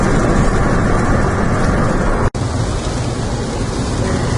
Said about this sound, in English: So it's raining pretty hard.